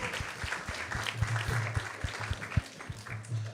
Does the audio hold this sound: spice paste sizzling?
no